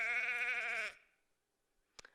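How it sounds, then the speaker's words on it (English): A single close, loud, wavering sheep bleat lasting about a second, followed by silence and a brief faint click. "It's a sheep."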